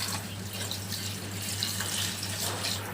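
Water streams into a pan of chicken gravy, making a loud, continuous, steady gush with a constant low hum beneath it and no voices.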